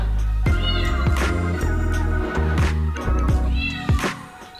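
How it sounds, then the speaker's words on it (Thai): Two cats left home alone meow back and forth indoors, loud and close, several drawn-out calls overlapping through the clip with no talking. "ทุกคนได้ยินเสียงแมวสองตัวนะไม่ใช่ตัวเดียว"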